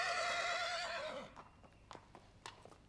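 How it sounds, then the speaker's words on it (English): A German riding pony neighs loudly and close in a long, wavering whinny that fades out, followed by several crisp, irregular hoof clip-clops on a hard surface. "Nibelungenheld is a typical representative of his breed, the German riding pony."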